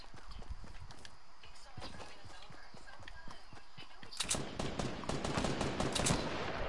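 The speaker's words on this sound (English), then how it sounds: "I got all kinds of guys shooting at me!" Video game gunfire: scattered quiet shots and hoof-like clopping give way to a dense, loud burst of rapid shooting near the end.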